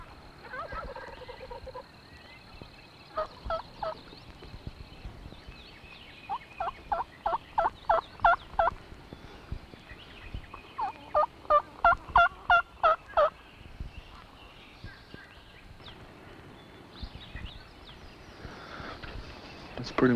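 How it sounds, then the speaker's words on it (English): Several wild turkeys gobbling in the distance of a Deep South river woodland, repeated bursts of rapid rattling gobbles answering one another, with someone talking quietly between calls. "You heard 3 or 4 gobbling over there."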